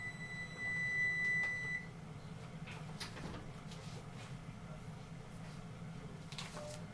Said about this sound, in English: the timer's just about to go off here